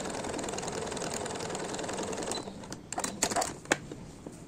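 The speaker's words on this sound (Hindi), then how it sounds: "इसको इस तरह से इसके ऊपर सिल देंगे सिलाई लगा देंगे ऐसे" Electric sewing machine stitching a fabric strip onto a newborn baby's shorts, a steady fast mechanical whir that breaks into short irregular bursts of stitching near the end.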